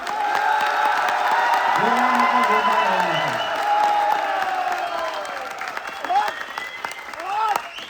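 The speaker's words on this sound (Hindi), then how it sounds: "हमें एक जोरदार तालियां हमारे गुरुदेव संजीव सर के विजन के लिए बताना चाहिए" A seated audience on a cruise ship event claps and cheers loudly and steadily throughout, with whoops and shouts rising over the dense applause.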